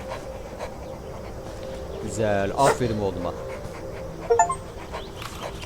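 A dog in the Hello Neighbor 2 video game pants in quick rhythmic breaths with a few whimpers, close and fairly loud, while someone talks over it.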